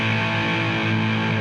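An oversaturated electric guitar tone from stacked Tonex tone models with extra reverb gives a dense, fuzzy, distorted sustained chord that rings continuously with a washed-out reverb tail.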